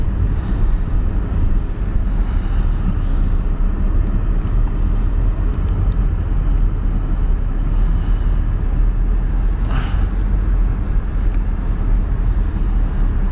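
A 2022 Mercedes GLC 300 4MATIC SUV with AMG Night Package cruises along, a steady low road and engine rumble filling the cabin with faint wind hiss and no talking.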